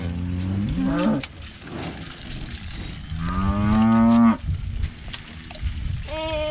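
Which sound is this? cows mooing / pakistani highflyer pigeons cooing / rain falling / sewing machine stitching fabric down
cows mooing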